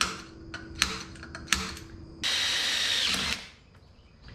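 A drill bit bores into metal on an abandoned minitruck bed mount, a sustained high whine running for about a second before cutting off, preceded by scattered clicks and taps.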